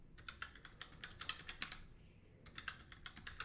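Rapid keystrokes on a computer keyboard as a password is entered, a quick uneven patter that pauses briefly mid-way and then resumes, fairly quiet with no voices.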